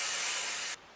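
A short, close hiss of spray paint as chalk paint is sprayed onto a wicker basket, one steady burst that cuts off abruptly.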